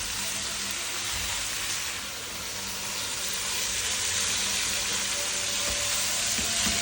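Capsicum and cabbage fry in a pan with a steady, loud, even sizzle that runs unbroken throughout, close up and with no talking.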